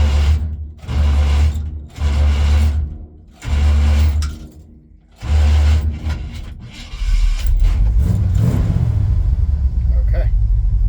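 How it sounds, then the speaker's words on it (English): Dragging starter cranking the engine of a 1966 Chevrolet C10 shortbed, several loud, slow, labored cranking bursts separated by short gaps, then a longer rumbling crank, with people talking. "Yeah, that starter's dragging."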